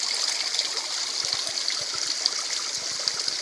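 A small stream of water trickling and splashing at Cachoeira da Serrinha, a low-flow waterfall in Carmo do Cajuru, heard as a steady, close hiss with faint soft gurgles and no talk.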